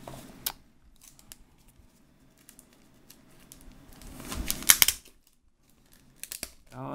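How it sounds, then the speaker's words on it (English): A paper comic book is opened, and its pages rustle and crinkle briefly in a quiet room, with a louder burst of paper handling in the middle. "I love the sound of opening up a comic book"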